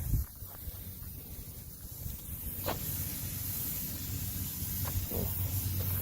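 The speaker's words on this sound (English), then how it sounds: "That's spraying more like a foam." A garden sprayer hisses out foam in a steady, soft spray outdoors while planting Black Dragon coleus, the sound continuous and fairly quiet with a couple of brief clicks.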